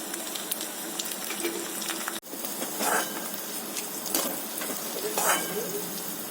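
Onions and small chopped vegetables sizzle and fry steadily in a pan, a continuous close crackle with occasional stirring scrapes and a brief drop partway through.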